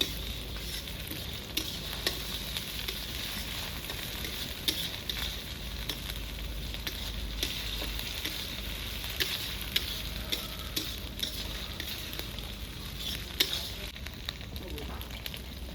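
Onions fry in a pan as ginger garlic paste goes in for a village-style chicken do pyaza, a close, continuous sizzle broken by repeated scraping stirs.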